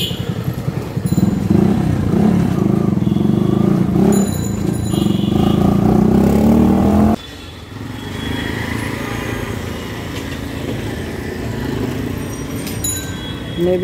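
A motorcycle revs hard while spinning donuts on a road, its engine droning loud and close, pitch rising and wavering, then dropping abruptly to a lower rumbling idle for the rest.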